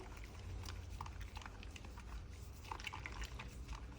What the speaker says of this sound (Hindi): वॉयलेट शैम्पू को आप पानी में अच्छे से मिक्स कर लेंगे।